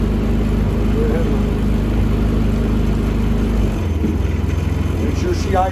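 A Predator 3500 inverter generator runs at close range with a steady, loud mid-pitched engine drone that drops slightly in speed partway through as it idles down.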